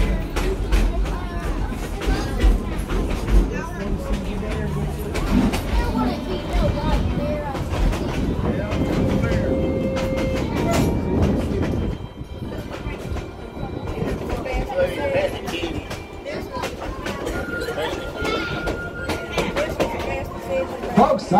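The ET&WNC 12 train rolls along the rails with a steady, loud rumble, rhythmic clickety-clack and occasional squeals from the wheels, all heard from on board with voices talking over it.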